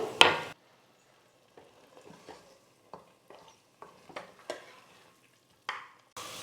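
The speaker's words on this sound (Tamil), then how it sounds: "மசாலோட சேர்த்து நல்லா கலந்து கொடுத்துட்டு இது கூட தண்ணியை சேர்த்து வேக வச்சுக்கலாம்" Mutton trotters stirred into masala in a pot for paya soup, a series of separate scraping and clacking spoon strokes with light sizzling between them, close and moderately loud, no talking.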